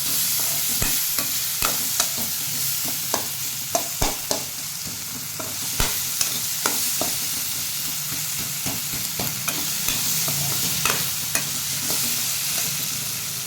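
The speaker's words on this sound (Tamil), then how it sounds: "சிம்மில் வச்சு வதக்கிக்கோங்க, இல்லைன்னா வந்து அடி பிடிக்க ஆரம்பிக்கும்" Onions sautéing on low heat for a dried fish curry give a steady sizzle, broken by regular sharp clacks and scrapes of a spoon stirring against the pan, with no talking.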